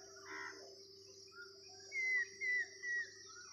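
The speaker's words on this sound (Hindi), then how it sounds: "पंछियों की धुन सुनाई दे रही है सुबह सुबह" Morning birdsong in a village: a few short chirps and a brief series of three clear whistled notes over a steady insect drone, moderately faint and without speech.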